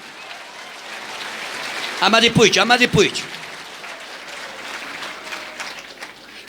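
A church congregation applauds strongly, a continuous wash of clapping, while a voice speaks briefly and loudly over it in the middle before the clapping carries on alone.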